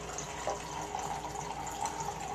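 Water runs from a water ionizer machine into a container in a steady, moderately loud stream with a faint trickling texture, heard close with no voices.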